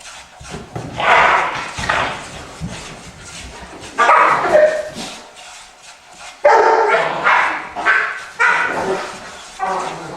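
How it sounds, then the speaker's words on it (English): Several dogs bark and yip in excited bursts, fairly close, with short pauses between volleys and some whimpering. "The dogs are going crazy today."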